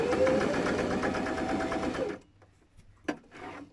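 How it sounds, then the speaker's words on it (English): A treadle-driven top-loading sewing machine stitches fabric in a steady, close mechanical whir for about two seconds, then stops. A few light clicks and handling knocks follow as the fabric is turned. "turn your fabric, set your foot down, and sew."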